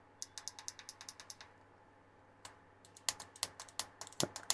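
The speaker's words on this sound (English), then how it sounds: "That's got a lovely click to it now." Button on a faulty cordless electric carving knife clicking repeatedly: a quick run of crisp clicks, a short pause, then a further irregular series of sharper clicks, close up with no talking.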